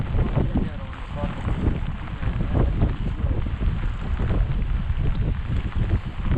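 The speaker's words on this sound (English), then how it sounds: "It's so windy." Strong blizzard wind buffets the microphone while fishing for striped bass, a loud, continuous roar with gusty low rumbles and no break.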